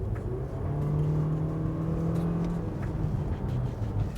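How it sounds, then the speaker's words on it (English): A 2021 Toyota C-HR with its 144-horsepower 2-liter engine and CVT accelerates steadily, a sustained droning hum rising slightly in pitch as it holds high revs from inside the cabin. "144 horsepower made it to a CVT transmission. It sounds like this."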